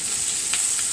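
Chicken sizzles and crackles steadily in a hot pan, a close, loud, continuous frying hiss with no voices.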